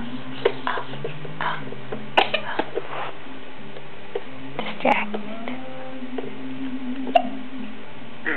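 A 7.5-month-old baby hiccups in short, sharp catches scattered through the clip, close by, over a low steady hum and soft background noise while an adult talks.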